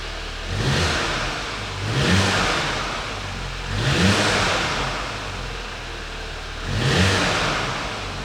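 Volkswagen Golf GTI Performance engine idling nearby, then blipped four times in short, evenly spaced revs that rise and fall back to a steady hum.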